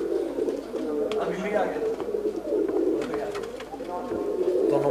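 Specially bred pigeons, a fancy breed with distinctive eyes, coo and flutter close by in a steady murmur of soft calls, while someone talks over them throughout.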